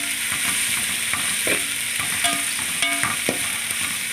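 Sliced onions go into hot oil with bay leaf, cinnamon and cloves for mint chicken biryani, sizzling steadily up close while a spoon scrapes and stirs with occasional clinks.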